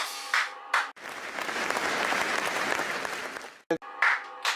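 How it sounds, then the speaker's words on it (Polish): An award gala audience breaks into sustained applause, a dense, even wash of clapping lasting several seconds between brief bursts of other sound, fairly close and loud. "Tak, proszę Państwa, brawa!"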